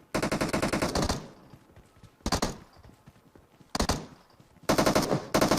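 Repeated bursts of automatic gunfire from PUBG Mobile, four loud rapid volleys separated by short pauses, close and dominant with no talk.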